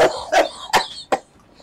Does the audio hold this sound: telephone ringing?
no